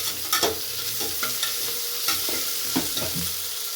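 Ginger garlic paste sizzles with onions and curry leaves in a pan for vegetable pulao, a steady close frying hiss punctuated by repeated scraping stirs of a spoon.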